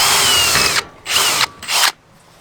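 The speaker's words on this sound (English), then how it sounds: "Start with drilling a pilot hole." A power drill drilling a pilot hole whines through three bursts, a long one followed by two shorter ones, each stopping abruptly into near silence.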